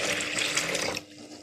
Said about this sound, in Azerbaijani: ilk öncə qaba 2 stakan ilıq su əlavə edirik